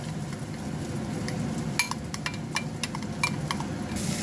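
Spices, onion and ginger-garlic paste stirred in a frying pan for paneer, a soft steady sizzle with light, irregular scrapes and clinks of a spoon against the pan throughout and no voices.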